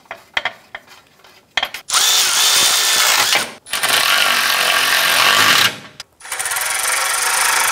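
A power tool drives the lower heat shield bolts on a 2004-2008 Acura TL, running in three long, loud, steady bursts with brief pauses between, after some light clattering at the start.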